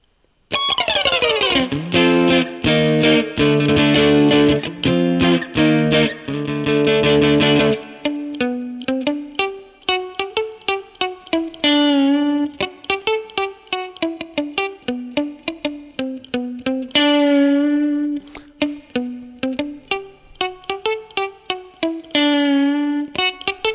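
Fender electric guitar with heavy distortion and effects playing a song: several seconds of ringing chords, then a flowing single-note melody played steadily at a loud level.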